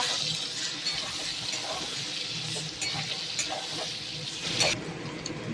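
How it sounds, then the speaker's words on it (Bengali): Fried potatoes and added spices are stirred and sautéed in an oily pan for aloor dum, a steady close sizzle broken by repeated scraping spatula strokes and a sharper clatter near the end, with no talking. "এবার মশলা যোগ করলাম। এবার সুন্দর করে কষাবো আমরা।"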